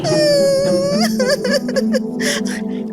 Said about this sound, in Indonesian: Arya si putri duyung mendengar tangisan sebuah kerang saat sedang mencari keberadaan Dolphy